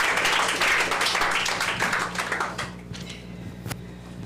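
Audience applause at a reading competition, a burst of many hands clapping that starts strong and gradually thins out and fades over a few seconds, with a few scattered claps near the end.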